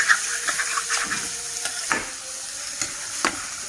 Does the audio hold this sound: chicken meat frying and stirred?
yes